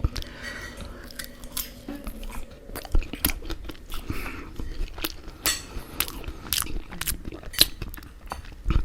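Close-up eating of garlic and herb salmon with salt and pepper chips: loud crunchy bites and steady chewing, with occasional clinks of cutlery against a plate and no talking.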